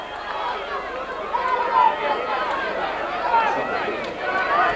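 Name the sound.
football crowd getting livelier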